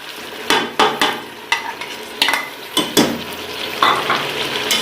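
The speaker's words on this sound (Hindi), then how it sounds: "और इसे अच्छी तरह मिक्स करेंगे और फ्राई करेंगे" Chicken frying in a pan with tomato paste, stirred with a utensil: a steady loud sizzle under repeated sharp scraping and clacking stirs at an uneven rhythm, close up, with no talking.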